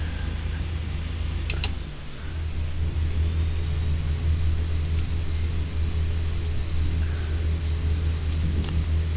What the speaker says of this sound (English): I'm almost redlining in 11th gear